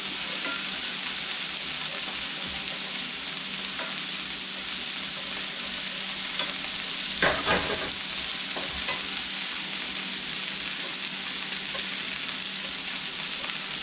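Peppers softening in a hot pan for chicken curry, a steady loud sizzle throughout with occasional scraping stirs, including one louder stir about halfway through.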